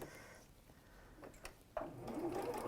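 A sewing machine runs a short line of stitching on dressmaking fabric, a quiet close whir that picks up and grows louder toward the end.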